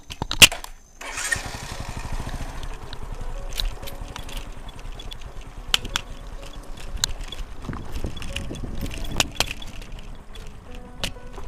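Motorcycle on a mountain road to Lake Danao in Southern Leyte, Philippines: an engine putters and chugs steadily throughout with scattered clicks and knocks, moderately close, without talk.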